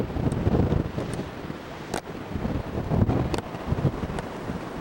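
Pacific Ocean waves crash against the Hawaii coastline under strong wind, a broad steady roar of surf and gusting wind buffeting the microphone, with a few brief sharper bursts and no voices.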